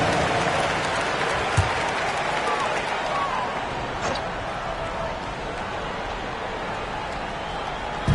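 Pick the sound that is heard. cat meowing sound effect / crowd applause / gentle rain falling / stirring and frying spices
crowd applause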